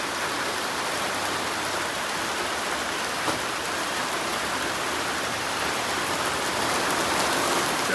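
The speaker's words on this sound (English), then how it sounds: "Look at the rain." Steady rain pouring down outdoors at a zoo, a continuous dense hiss of drops striking surfaces with no letup, loud and close throughout.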